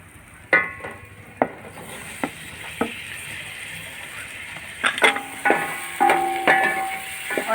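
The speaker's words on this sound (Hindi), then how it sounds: "और इसे 2 मिनट भून लेते हैं" Two chopped tomatoes fry in a pan for a kala chana pulao, with a steady sizzle throughout and sharp utensil scrapes and knocks from stirring, most frequent toward the end.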